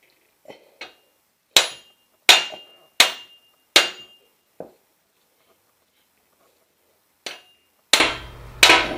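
Heavy hammer blows ring out on metal while driving a rusted axle shaft out of a Chevrolet Corvette C6 rear hub, about eight sharp strikes spaced unevenly with pauses, close and loud, ending in a couple of harsher bangs.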